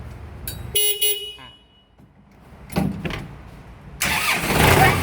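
A Kubota M6240 tractor with a starting fault cranks and catches, with bursts of mechanical noise and rising engine roar after a few quieter gaps, close and loud.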